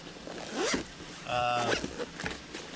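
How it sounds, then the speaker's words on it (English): A zipper on a soft protective case for a Garmin RV 785 GPS is pulled closed in two quick, close zips, with faint background noise between them. "I just put it in the case, zip it up."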